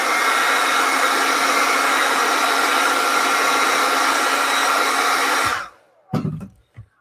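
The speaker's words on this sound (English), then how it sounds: "So let me just use the hairdryer." A hair dryer blows on plastiline clay for a portrait sculpture, a loud steady close roar for several seconds that then cuts off, followed by a few soft knocks and handling sounds.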